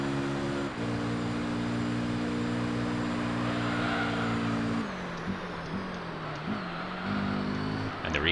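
Racing cars in Gran Turismo 3 drone with steady high-pitched engine tones that shift and drop as cars change gear and pass, a continuous mechanical whine with no speech.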